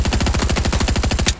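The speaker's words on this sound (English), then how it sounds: "I got beamed in the back by the kid that was just shooting at me" Rapid automatic gunfire in a video game rattles out in a fast, even burst of closely spaced shots, loud and close, ending with a sharper final crack.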